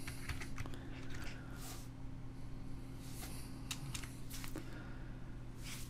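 Typing on a computer keyboard: quiet, close clicks in short irregular bursts over a steady background hum, with no talking.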